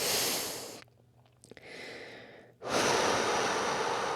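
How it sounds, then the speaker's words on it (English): Slow, deep breathing during a guided relaxation and strength exercise session, a long whooshing exhale easing into a quiet pause before a steady, close airy breath returns. "Taking some nice breath here."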